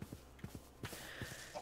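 Horse hooves in Minecraft clopping in a quick, uneven rhythm, several soft thuds close by with no talk over them.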